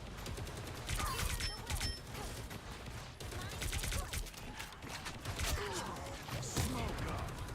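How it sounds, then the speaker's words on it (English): Gunfire in a video game, scattered shots and a sniper firing from afar amid a busy, noisy battle with clattering impacts, a voice talking over the rough, continuous din. "Someone shooting from afar."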